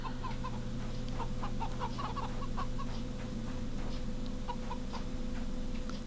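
Chickens in the video game CHKN cluck in short, quick bursts over a steady humming game background, with several clucks clustered early and a few more near the end.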